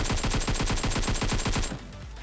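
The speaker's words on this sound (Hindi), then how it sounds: "तो यहाँ पे मेरा आइडिया तो रहता है कि तब तक गोली चलाऊंगा तब तक इसकी पेटी ना बने" Rapid automatic gunfire in the PUBG Mobile shooter game, a fast, loud burst of about fifteen evenly spaced shots that stops abruptly, leaving faint ambience.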